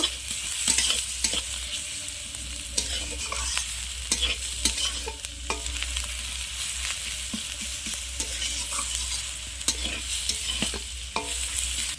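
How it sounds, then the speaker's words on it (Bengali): Onion and garlic paste frying in a pan, a steady sizzle broken by repeated scraping and stirring strokes, close and loud, with a low hum underneath and no voices. "পেঁয়াজ রসুন আমি ভালোভাবে একটু ভেজে নেব।"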